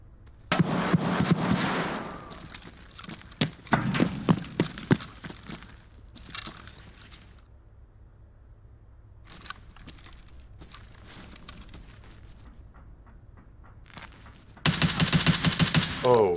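A 9mm carbine firing in Escape From Tarkov, several bursts of rapid close shots separated by quieter gaps with scattered single reports, ending in a loud sustained burst.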